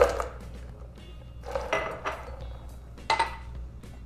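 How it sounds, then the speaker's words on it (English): Ice cubes clatter into a blender already holding dark rum, light rum, passion fruit, orange and lime juices, in three short clinking bursts spread over a few seconds, fairly close, with no talking. "So we'll add those, you can add the ice."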